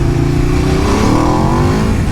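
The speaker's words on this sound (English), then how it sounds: "it sounds like a deep, bassy sound" Aprilia RSV4 motorcycle fitted with a LeoVince Factory S exhaust revving hard, a loud, close, deep snarling engine note that climbs steadily in pitch without pause.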